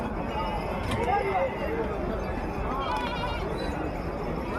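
Nellore Jodipi sheep bleat several times amid a noisy crowd at Gudur market, with voices talking throughout and a steady rumble of market bustle.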